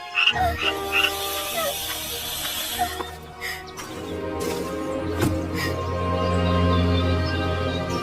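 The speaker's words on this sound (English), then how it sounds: "The room filled with croaking and hissing" Frogs croak loudly and densely in a narrated fairy-tale scene, layered with hissing snakes, the croaks repeating over a thick, sustained background.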